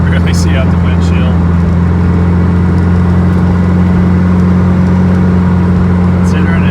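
Mitsubishi 3000GT VR4 with a swapped 4G63 engine cruising along, a steady low engine drone and road rumble running loud and continuous throughout, with brief faint voices and noises in the background.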